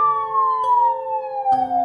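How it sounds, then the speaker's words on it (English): A police car siren wails steadily, its tone slowly dropping, loud and close, with brief clicks where the sound cuts between segments and no speech. "P. Police car."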